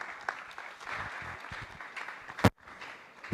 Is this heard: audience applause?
yes